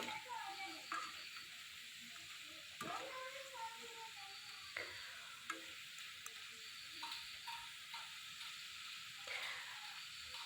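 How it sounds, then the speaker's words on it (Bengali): Potato french fries fry in a pan with a soft, steady sizzle and bursts of louder crackle and clatter. Quieter background sounds fill the gaps, and there is no clear talking. "ফ্রেঞ্চ ফ্রাই বানাচ্ছি ভেজে দিচ্ছি"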